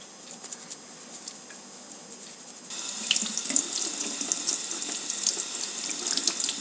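Tap water runs into a sink while paintbrushes are rinsed clean of soap or shampoo, starting as a light trickle and then swelling to a steady, louder splashing flow, close by with no talking.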